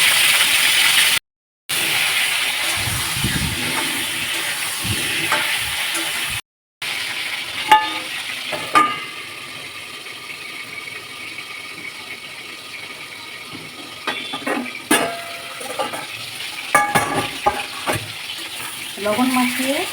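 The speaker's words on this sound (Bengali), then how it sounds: "লবণ মাখিয়ে আলুটা ভাজতে হবে।" Salted potato pieces frying in hot oil in a kadai, a steady sizzle broken by brief gaps, later with scattered scraping and clattering stirs of a utensil against the pan.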